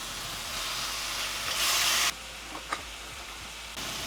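Curry leaves tempering in hot oil for a tilapia fish curry, a steady close hiss of sizzling that swells briefly louder, then drops back with a few small pops and crackles.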